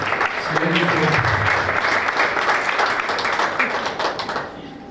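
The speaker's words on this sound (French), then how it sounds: "j'appelle, s'il vous plaît, sous vos applaudissements, Monsieur le Président" Audience applause greets the president called up to announce the prize results at an MT180s thesis competition, a dense, steady wash of clapping that holds throughout and fades slightly at the end, with faint voices mixed in.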